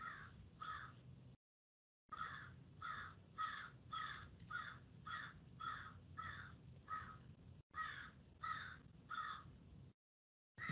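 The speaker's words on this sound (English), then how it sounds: "This giant blackbird is right outside my door, cawing." A large crow caws right outside a door, a long run of harsh, repeated caws in pairs and short bursts, fairly faint and distant-sounding, with no talking.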